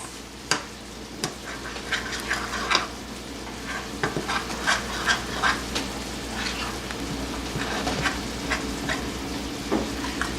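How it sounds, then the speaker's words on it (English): A spoon stirring pizza dough in a bowl, repeated clinking and scraping knocks at an irregular rhythm over a continuous soft rustling bed, close and fairly loud. "All right, now stir it. Stir it up. Hold that bowl."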